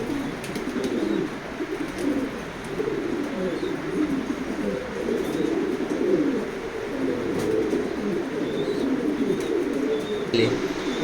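Racing pigeons in a loft coo steadily and continuously, many overlapping throaty calls forming a dense murmur with occasional faint higher chirps.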